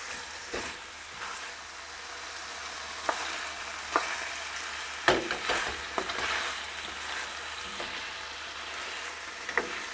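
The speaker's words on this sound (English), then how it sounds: "I want to coat all of the lamb in the mixture, in the spice paste." Lamb sizzles steadily in vindaloo spice paste in a pan, with scattered scrapes and clacks from stirring, several sharper knocks breaking through a soft frying hiss, close by and without talk.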